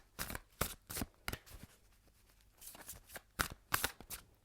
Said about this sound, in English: I'm going to pull the first three cards.